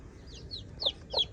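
A mother hen with a brood of chicks clucks softly a few times at close range, short murmuring calls rising slightly at the end, over a low steady background.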